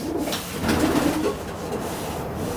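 A racing pigeon cock bird coos in low, soft, rolling notes, close by, with light rustling in the loft.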